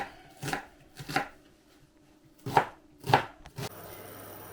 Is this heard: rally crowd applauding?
no